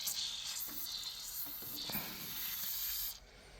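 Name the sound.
spraying Motormaster chain lube onto a snowblower chain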